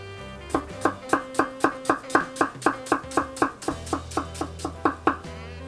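Knife chopping tomato and onion on a board for chicken shawarma, about twenty sharp, evenly spaced strokes in a steady brisk rhythm, close and clear.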